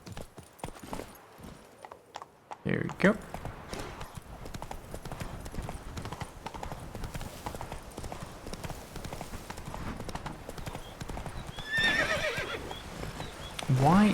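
Rapid, rhythmic hoofbeats of a galloping horse in the video game The Witcher 3: Blood and Wine run continuously, with a brief neigh near the end and a short spoken remark early on.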